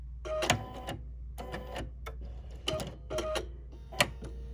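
A sewing machine works through appliqué, then its automatic thread cutter fires; several short bursts of mechanical whirring and clicking are separated by brief pauses, with a sharp snip-like click near the end, close and fairly quiet.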